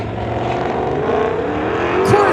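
Corvette and Mustang drag race cars idling and revving in the lanes at a street-legal drag event, a steady engine rumble with a rising tone near the end, under announcer-style talk.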